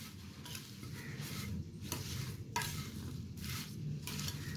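Mustard greens pickle (sarson ka saag achaar) with lemon juice and chilli being stirred and mixed in a pan, a steady soft scraping and squelching with a few sharper spoon strokes, close and continuous with no talk.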